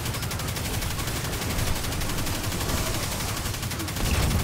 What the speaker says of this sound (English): And here I go in with the beast of a gun.